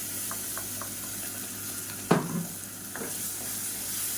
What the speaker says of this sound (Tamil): இப்போ தக்காளி நல்லா வதங்கிட்டு இருக்கு